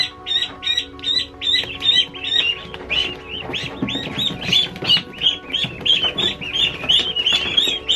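Dense, continuous high-pitched peeping from many two-week-old ducklings close by in a brooder, overlapping chirps with a few lower clucking sounds underneath.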